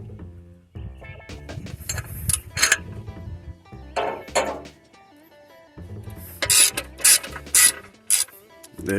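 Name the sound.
loosening a stuck bolt on a Detroit 60 Series engine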